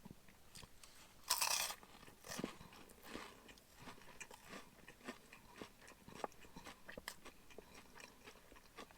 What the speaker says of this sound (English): If you can hear that little bit of crunch, well, a lot of crunch, it's actually crunching in a good way.